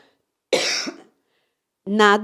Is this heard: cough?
yes